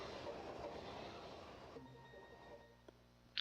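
Train rolling across the Final Fantasy 8 overworld, a steady rumbling rail wash that thins out partway through, leaving a quieter hum with a couple of faint clicks and a brief high squeal at the end.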